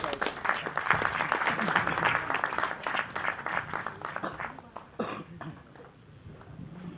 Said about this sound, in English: Warm round of applause, please